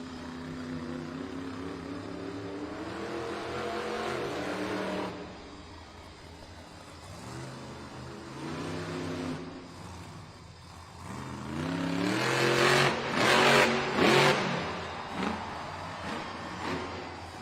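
A Monster Jam truck, El Toro Loco, revs its engine in a stadium arena, with a rough rumble that swells and falls across repeated throttle bursts and peaks in a loud roaring surge near the end.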